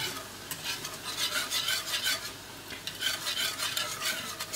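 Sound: stirring caramel cream in a large saucepan

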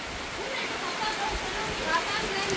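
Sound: rain falling

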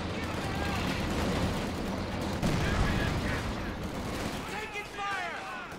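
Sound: machine gun fire in video game Company of Heroes 2

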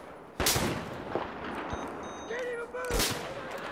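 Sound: Desert Eagle gunshots in the video game Battlefield 4

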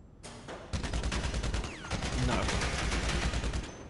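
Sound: combat MG machine gun firing in video game GTA Online

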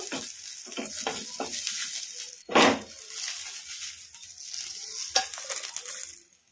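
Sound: green chillies frying in a kadai

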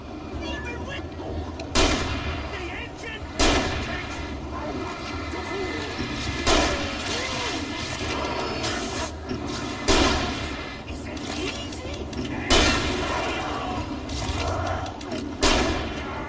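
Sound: gunshots in the video game Alan Wake

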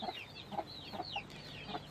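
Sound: rooster and chickens clucking

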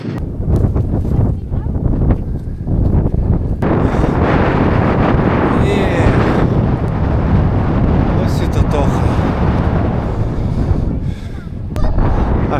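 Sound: strong wind

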